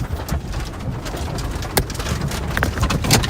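Small hailstones fall during an Oklahoma thunderstorm under a tornado warning, a dense, loud patter and crackle of hits on surfaces all around, with a few sharper impacts.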